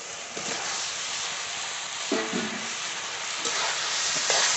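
Chicken added to well-fried spice masala in a hot pan, a steady loud sizzle and frying hiss throughout with a few brief stirring scrapes, close by and without talk.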